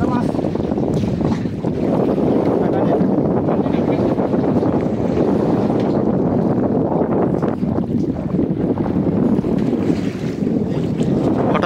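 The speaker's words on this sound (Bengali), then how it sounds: "হঠাৎ করে ঢেউ বেড়ে গিয়েছে," A small fishing boat on the Poshur River in Bangladesh, out hilsa fishing, rocks in rising waves, with loud, steady wind and water roar pressing on the microphone and people talking faintly underneath.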